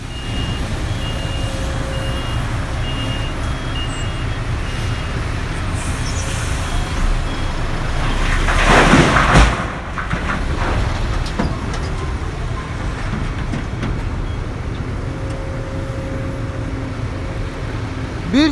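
Trucks at a hilltop construction site, among them a MAN truck and a Hidromek HMK 300 LC excavator, send out steady repeating reversing beeps over a continuous engine rumble, with a louder surge of heavy machinery about midway.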